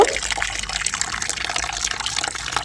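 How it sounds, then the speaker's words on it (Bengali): Thick-cut hilsa fish pieces are washed under running water, a steady close splashing and gushing that runs without a break, no talking. "এবার মাছটাকে আমি ভালো করে ধুয়ে নিব"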